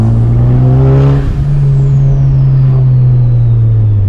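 Turbocharged Honda engine revving hard on a dyno, a loud sustained drone with steady harmonic exhaust tones and a brief dip in pitch partway through, turbo whine layered over the exhaust roar.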